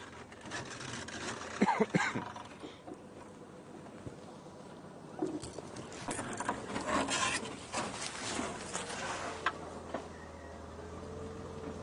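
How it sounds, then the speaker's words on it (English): Scraping and rubbing from a safari vehicle on a morning game drive, a rough rasping that comes in bursts over several seconds, close and moderately loud, over a low steady engine hum. "Sorry about the scraping."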